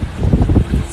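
Wind buffets the microphone on a sailboat sailing close-hauled, a loud low rumbling gusting in uneven surges with no voices.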